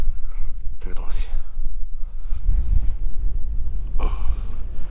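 Strong wind sweeps across a desert gobi around a parked RV, kicking up sand and stones, with a loud, steady low rumble and gusty buffeting close to the microphone throughout.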